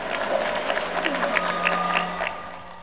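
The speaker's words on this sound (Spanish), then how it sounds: "Un fuerte aplauso, Jayaya." Audience applause and cheering at a Bolivian political rally with the vice president present, a steady crowd roar with scattered claps and shouts throughout.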